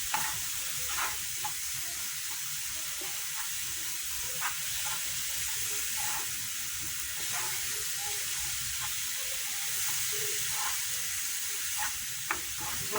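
Garlic, onion, spring onion and aromatics sizzle steadily in a pan of fat, a close, even frying hiss with soft stirring scrapes recurring every second or so.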